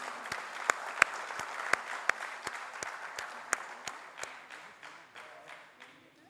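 An audience applauds at a university homecoming scholarship award ceremony, a modest group clapping in a steady patter with a few sharp, prominent claps early on, gradually thinning out and fading toward the end.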